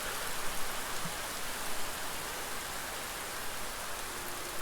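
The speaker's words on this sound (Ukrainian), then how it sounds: "який дощ холодний" Steady, hissing rainfall in a video game, a dense even patter with no breaks, fairly soft and continuous throughout.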